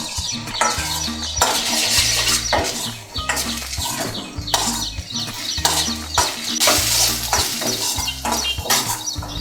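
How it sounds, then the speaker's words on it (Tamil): Green peas masala poriyal is stirred in a pan, producing repeated scraping and clattering strokes over a steady frying sizzle, in an uneven rhythm close by. "கொஞ்சம் கிளறி விட்டுட்டே இருங்க, இல்லைன்னா கொஞ்சம் அடி பிடிச்சிக்கும்."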